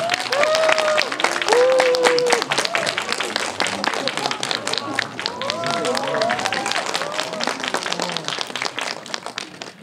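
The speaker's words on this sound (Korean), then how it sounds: "많은 박수로 맞이해 주시기 바랍니다." Audience applause at a Korean film stage greeting, steady clapping across ten seconds with voices and cheering mixed in over it.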